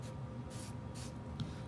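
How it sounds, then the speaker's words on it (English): Alcohol sprayed in short, soft hissing bursts onto the internals of a pistol, two or three quick puffs over a steady low room hum. "I just go ahead and spray down the internals of the gun with my alcohol"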